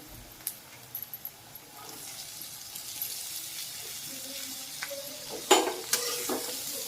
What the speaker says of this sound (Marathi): चांगलं व्यवस्थित परतून घ्यायचं आहे